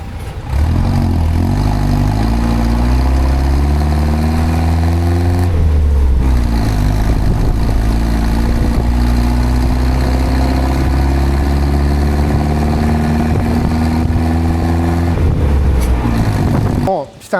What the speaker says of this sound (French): Le son de l'échappement.